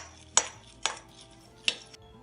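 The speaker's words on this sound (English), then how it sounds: "Now stir it around." A utensil stirring chopped walnuts with ground cinnamon in a bowl, with three sharp separate clinks against the dish over a quiet background.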